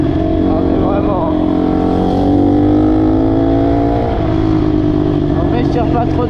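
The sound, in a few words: 150cc motorcycle engine revving during break-in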